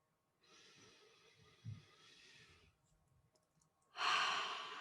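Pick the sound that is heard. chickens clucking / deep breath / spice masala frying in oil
deep breath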